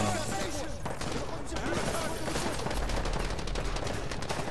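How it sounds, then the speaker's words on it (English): Sustained video-game gunfire from Call of Duty: Modern Warfare 2 as players shoot at gas pumps, dense overlapping rifle bursts crackling continuously and loudly throughout without a break. "Y'all shooting gas pumps?"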